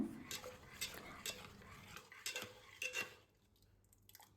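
A utensil scrapes and knocks against a metal pot in irregular strokes as millet payasam is stirred nearby, then the clatter fades to quiet.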